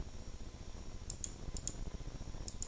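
Computer mouse clicks while modelling a candle in 3ds Max: a few faint, crisp clicks, some in quick pairs, spread over a low steady hum.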